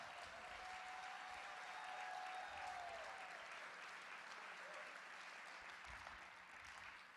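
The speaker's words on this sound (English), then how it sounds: "Let's give Amy Miller and Transcendence Theater Company another round of applause." Crowd at a TEDx Sonoma County event applauding a theater company, a soft, even roar of distant clapping, with a faint tonal whine drifting through the middle.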